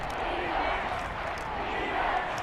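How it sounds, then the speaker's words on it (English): Washington home crowd at a football game chanting during a third-and-twelve before the two-minute warning, a steady broad roar of many voices filling the stadium, dense and unbroken, at moderate distance. "you can hear the Washington crowd chanting defense"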